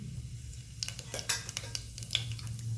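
Cumin goes into hot oil with mustard seeds, giving a quiet sizzle with scattered crackles and pops as a spoon stirs the pan, over a low background hum.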